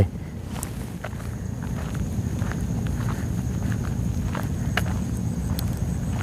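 Footsteps walking over open farmland, a steady run of soft, close steps on earth and grass with a faint outdoor hiss behind them.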